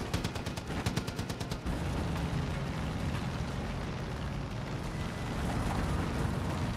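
Gunfire and rocket explosions in the video game Far Cry 5: a quick burst of rapid shots opens, then a dense, sustained rumble of blasts and firing continues loudly throughout.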